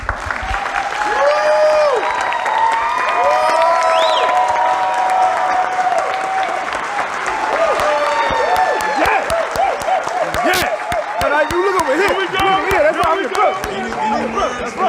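Audience at a graduation ceremony applauds the graduates continuously, dense clapping from a large crowd with scattered cheers, steady and loud throughout.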